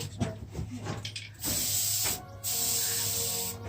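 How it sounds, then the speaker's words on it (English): Two sustained bursts of aerosol spray paint hissing nearby, separated by a brief gap, after a moment of faint rustling. "What are you guys spray painting?"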